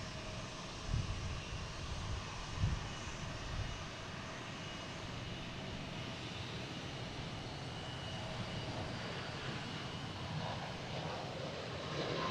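An American Airlines airliner arriving from Chicago at Boston Logan, its engines a faint, distant, steady roar that stays even throughout with a couple of small bumps early on.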